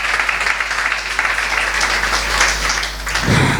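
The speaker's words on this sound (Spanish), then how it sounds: "Un aplauso" A church congregation applauds during a sermon, a steady rush of many hands clapping with a low hum underneath, swelling slightly near the end.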